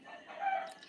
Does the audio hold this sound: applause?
no